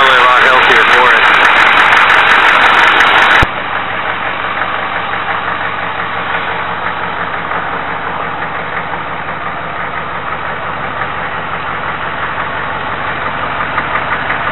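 Stock-airbox 1994 Chevy K2500 truck engine idling steadily with a low rumble and faint whine, loud at first then settling to a constant mid-level drone for the rest.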